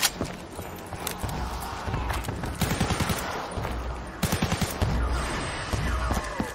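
Zombie video game gunfire: rapid bursts of shots rattle in clustered volleys, loud and close, with no talking.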